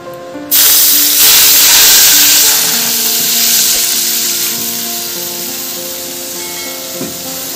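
A glass of milk hits a hot kadai on the stove with a sudden loud sizzling hiss that bursts in and then slowly fades to a steadier bubbling fry, with a few faint clinks and no voices.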